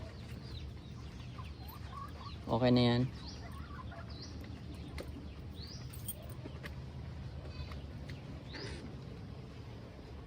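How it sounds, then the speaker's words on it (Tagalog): A chicken on a farm clucks briefly with a short harmonic squawk midway, set against steady outdoor background noise and a brief spoken voice. "Yan, yung mga manok natin."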